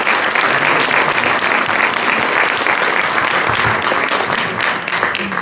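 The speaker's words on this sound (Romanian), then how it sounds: "Vă rog să o aplaudați pe această doamnă și pentru efortul ei." An audience at a Târgu Neamț community awards ceremony claps loudly and steadily for a woman, dense applause filling the room without a break.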